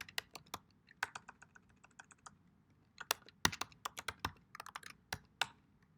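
Fingers type a password on a computer keyboard in quick, irregular bursts of clicky keystrokes with short pauses in between, close and fairly quiet in an otherwise still room.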